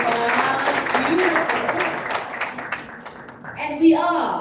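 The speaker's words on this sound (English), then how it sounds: "Another big round of applause, ladies and gentlemen." Audience applause at a presidential campaign launch event, a moderate crowd clapping steadily for several seconds before it thins out, with a voice breaking in over the tail.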